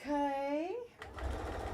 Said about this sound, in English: So I'm just quickly sewing this.